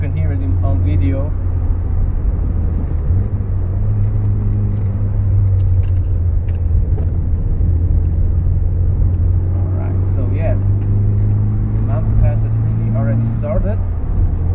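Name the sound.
Nissan Sunny Coupe GTi engine driving on mountain roads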